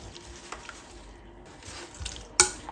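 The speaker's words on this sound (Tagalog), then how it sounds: "Haluin po natin mabuti." A spoon stirs sugar into a liquid with soft swishing and light scraping, followed near the end by a sharp clink against the container.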